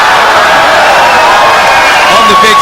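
An arena crowd cheers and whoops steadily at a Polaris grappling match, a dense, sustained roar that fills the space while a commentator talks over it.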